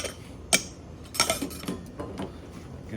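A knife chops a Snickers bar on a cutting board, with a couple of sharp, close knocks followed by softer, irregular taps and scrapes.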